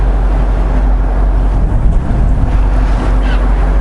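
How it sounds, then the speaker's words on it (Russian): Fishing boat heading out onto the open ocean past Kangaroo Island, with a steady loud engine drone mixed with wind buffeting and wash of waves, continuous throughout with no voices. "Вышли в открытый океан."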